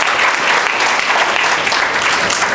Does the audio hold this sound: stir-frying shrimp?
no